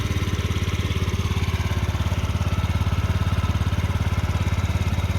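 A Yamaha Gear UA07J cargo scooter engine idles steadily nearby with a fast, even putter, unchanging for the whole stretch.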